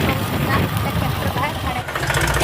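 A tractor engine idles with a steady, low rumble throughout, with a broad noisy hum and no clear changes in pace.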